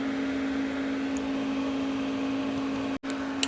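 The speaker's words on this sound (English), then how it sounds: "I think I'm going to put one of these on a Dremel and stick it in there and clean that out a little better" Steady motor whine of a Dremel rotary tool spinning a polishing wheel while cleaning out a part of a Sears generator, running continuously and fairly close, then cutting out abruptly near the end.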